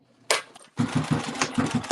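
A sewing machine tacks tabs onto the side of a Vera crossbody bag, starting with a brief burst and then running steady, rhythmic stitching pulses close up.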